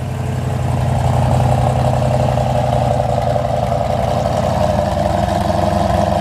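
A 1972 Chevrolet Corvette V8 engine idles with a deep, lumpy rumble from the exhaust, loud and steady throughout, with no talking.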